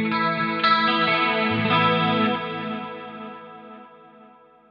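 An electric guitar chord rings through a delay effect in a rack setup with filters loaded, sounding swirling and chorused, with repeats that decay over several seconds, heard alone.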